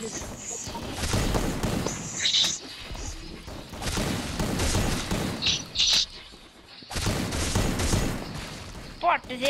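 Bursts of M1 rifle fire in Garena Free Fire zombie mode crack out in several clustered volleys, with a voice talking over parts of the shooting and short pauses between bursts.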